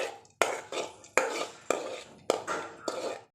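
Cauliflower stir-frying in a pan with salt, giving a series of about six sharp scraping, clattering strokes of a spoon against the pan, each trailing into a softer sizzle, close and moderately loud with no talk.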